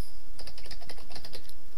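Rapid keystrokes on a computer keyboard enter a short command in a Linux terminal, a quick burst of close, crisp clicks with no voice.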